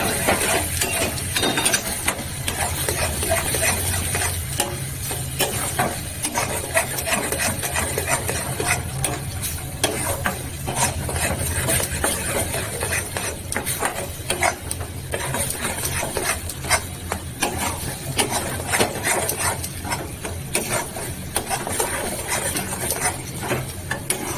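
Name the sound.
continuously stirring spices frying in a pan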